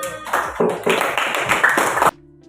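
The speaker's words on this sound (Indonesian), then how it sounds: "beri tepuk tangan" Classroom audience clapping after a student group presentation, a short burst of fairly close, uneven claps that stops abruptly and leaves a quiet hum.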